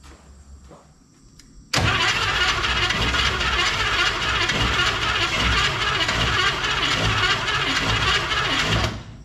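A restored 1955 Chevrolet 210 engine catches after a moment of near quiet and runs loudly and steadily close by for about seven seconds, then drops off at the end.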